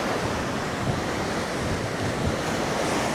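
Ocean surf washes continuously onto a beach at Tortuga Bay in the Galapagos, a steady loud roar mixed with wind buffeting the microphone.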